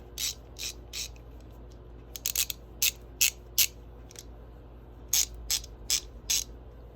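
A Craftsman VT 44811 ratchet clicks in short bursts of sharp, quick pawl ticks with pauses between them, fairly close against a quiet background hum and with no talking.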